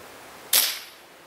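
A Kral air rifle fires a single sharp, close crack on a 100-metre range, cutting off quickly into a quiet outdoor background.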